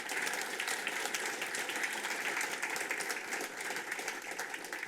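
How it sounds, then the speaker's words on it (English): An audience at a business tech talk on Microsoft Teams applauds steadily, with dense clapping that holds at an even level throughout without any talk over it. "hopefully we get a round of applause"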